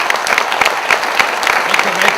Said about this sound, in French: c'était là le seul moyen de vous faire applaudir ce soir